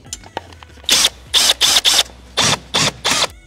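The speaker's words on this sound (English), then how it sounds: "Now we can take the 10 millimeter nut off of the ground on both sides." A ratchet backing off a 10 millimeter ground nut on a BMW M5 with the S63 engine, seven quick bursts of close, sharp clicking separated by brief pauses.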